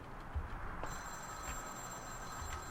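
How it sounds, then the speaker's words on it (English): In Vampire: The Masquerade - Bloodlines, a telephone rings in an abandoned shop, a faint electronic ring repeating steadily over quiet room tone with no talk. "But we can hear a ringing phone."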